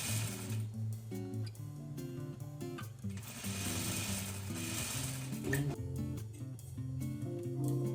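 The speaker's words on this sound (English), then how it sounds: "I am gonna sew right next to that guideline." Sewing machine stitching a hem along a guideline while altering thrifted clothing: a loud, continuous motorized whir that speeds up and slows down across the whole stretch, with brief pauses.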